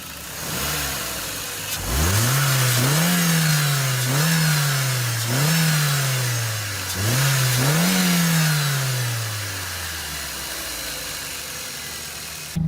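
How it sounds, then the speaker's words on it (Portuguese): An engine of a car over ten years old revs up repeatedly in quick bursts, each rise dropping back, then one final rev that winds slowly down toward idle. "acelere e solte repentinamente a aceleração"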